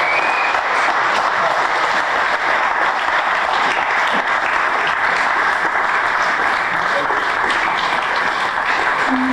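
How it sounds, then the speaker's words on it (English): A crowd at an outdoor sandlot baseball reunion gives a steady, dense round of applause, sustained evenly for about nine seconds with no talk over it. "Let's give them a nice round of applause"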